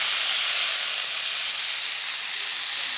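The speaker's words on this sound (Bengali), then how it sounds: "শাক ভাজি বেগুন দিয়ে ভাজছি।" Leafy greens frying with eggplant in a pan, a steady bright sizzle with no break for the whole stretch, close and fairly loud.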